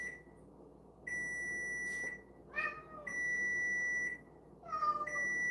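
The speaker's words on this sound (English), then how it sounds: "Oh, mournful meows." Cat giving a few drawn-out, mournful meows, close and clear, heard between steady electronic beeping tones.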